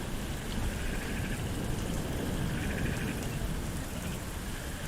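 Rain falls steadily and softly outdoors, a faint, even patter with no talking and no pauses.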